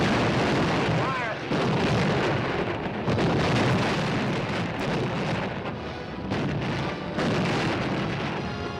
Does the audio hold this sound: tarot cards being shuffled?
no